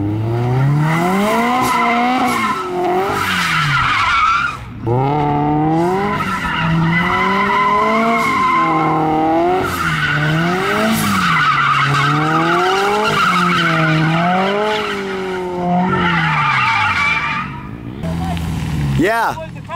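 Turbocharged Subaru BRZ drifting, with loud sustained tire squeal and a revving, wavering engine note that rises and falls through repeated slides, close and nearly continuous with only brief pauses.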